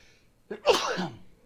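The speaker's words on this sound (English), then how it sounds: "I'm gonna sneeze." A single person's sneeze: a short sharp intake, then a loud explosive burst that fades quickly, heard close and alone without talk.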